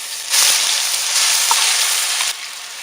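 Tomato garlic paste hits hot oil with curry leaves and red chilies for a rasam, producing a loud, close, continuous sizzle that swells when added and eases slightly near the end, with no voices.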